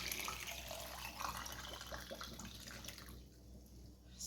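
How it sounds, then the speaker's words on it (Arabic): Water pours steadily from a pot of chicken as it is drained into a sink, a continuous splashing flow near and fairly loud, thinning slightly toward the end. "وغادي نخوي الماء."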